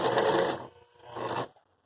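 Domestic sewing machine stitching in reverse for a backstitch, two short bursts of close motor whirring separated by a brief pause.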